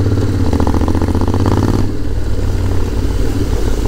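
A Honda X-ADV carbon model ridden on a road in Thailand gives a loud, continuous engine drone with low rumble, wind rush and a brief dip in intensity midway.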